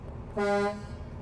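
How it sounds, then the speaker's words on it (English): A single short, loud blast of a 2020 Freightliner M2 106 truck air horn, rich and brassy, lasting about half a second over a low engine rumble. "Over here's the air horn."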